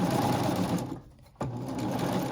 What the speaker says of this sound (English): then I'm just gonna sew over that back seam